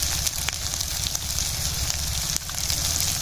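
Ground spices of turmeric, chilli, cumin and coriander fry in hot oil with a steady, dense sizzle and crackle, a few sharper pops breaking through the continuous hiss, close and fairly loud.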